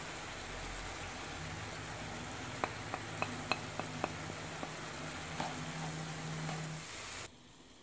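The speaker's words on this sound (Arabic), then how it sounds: "وغادي نشحر هاد البصله مع الكفته جيدا" Onion and minced kofta meat fry quietly in a pan under a low, even hiss, with a short run of light taps from a utensil midway through before the sound cuts off.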